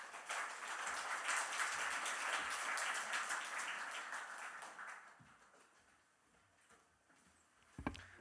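Applause fills a church sanctuary as a guest speaker from a Christian magazine is welcomed, a steady crowd clapping that holds for about five seconds, then thins and fades to a quiet room with a brief sharp knock near the end.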